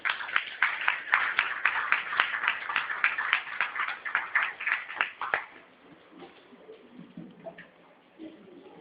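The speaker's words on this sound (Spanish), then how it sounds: "Recibámoslo, por favor, con un fuerte aplauso" Audience claps to welcome a speaker at an economic history lecture, a rhythmic burst of fairly close applause lasting about five seconds before it stops and the room goes quiet.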